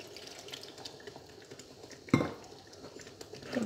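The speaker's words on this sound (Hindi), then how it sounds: "अब हम बाकी का दूध डाल देंगे।" Milk is poured into a simmering paneer gravy in a pan, a soft liquid splash and gurgle rising briefly over faint kitchen patter.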